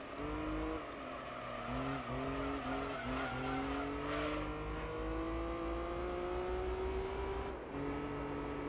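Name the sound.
racing car engine and tire skids in video game Gran Turismo 3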